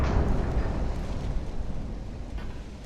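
A 10-inch battleship shell hits in the naval game Ultimate Admiral: Dreadnoughts, a heavy rumbling blast that starts loud, then rolls and fades over a few seconds, with no talking.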